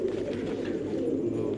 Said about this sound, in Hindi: बहुत खूबसूरत कबूतर हैं